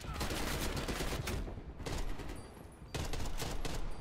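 Rapid AK assault rifle bursts from a Black Ops Cold War multiplayer match, loud, dense sustained automatic fire in three long volleys separated by brief gaps.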